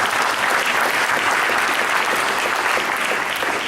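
Steady, dense audience applause fills the space throughout, a continuous crowd of clapping hands at an even, loud level with no voices breaking through.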